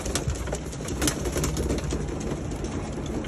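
Racing pigeons coo in a loft on a windy day, their soft calls blending into a constant rush of wind and background noise.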